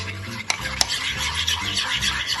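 Yogurt starter being whisked in a bowl before mixing with goat milk: quick, continuous clinking and scraping strokes with a couple of sharper taps, close and steady, with no voices.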